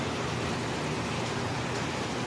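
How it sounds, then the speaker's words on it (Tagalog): Steady rain falls in a constant broadband hiss on an early morning, loud and unbroken for a couple of seconds with no talking. "Umuulan guys."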